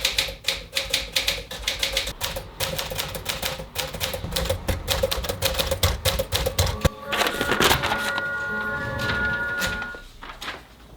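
A typewriter is typed on rapidly and continuously, with loud, close key strikes in an uneven clatter, followed by a carriage return and its ringing bell near the end.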